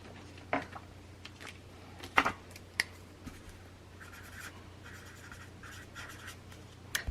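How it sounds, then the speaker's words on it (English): Pen writing a name by hand on paper, with scratchy strokes, a few sharper taps and short bursts of scribbling, close and fairly quiet. "I'm going to write your name down."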